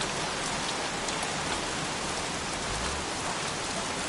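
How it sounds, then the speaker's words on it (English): Rain pours steadily in the video game Heavy Rain, a dense, even hiss of drops that runs unbroken and loud for the whole stretch, with no voices. "goddamn rain. Soaking wet."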